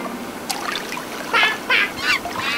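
A person imitates a duck indoors in a living room, giving a few short nasal honking quacks in quick succession, loud and close.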